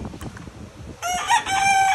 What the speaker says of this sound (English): Hey, hey, hey, chicken, what do you want with my scooter, man?